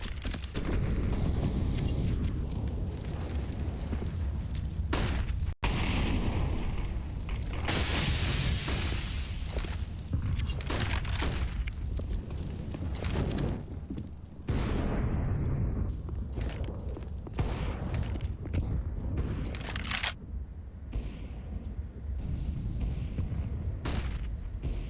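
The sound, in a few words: grenades and Molotov exploding in Counter-Strike video game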